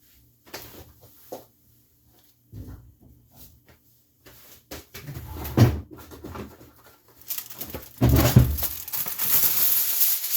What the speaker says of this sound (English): Take some aluminum foil here, not a lot.